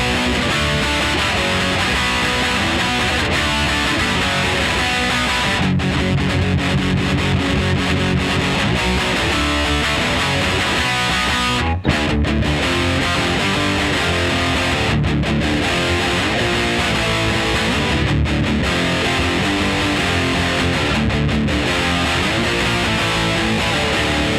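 An electric guitar roars through heavy overdrive distortion from a Fulltone OCD pedal in HP mode, playing thick, sustained chords loudly and continuously with a few brief breaks.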